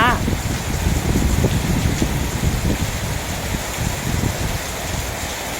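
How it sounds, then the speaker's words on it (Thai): Heavy rain driven by strong wind in rural Sisaket province, Thailand: a dense, steady hiss of downpour with gusty rushing noise throughout, loud and close, with no clear words heard. "ฝนตกหนักมากเลยครับ ตอนนี้ทั้งฝนทั้งลมทั้งฟ้า"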